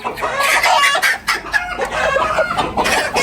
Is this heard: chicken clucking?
yes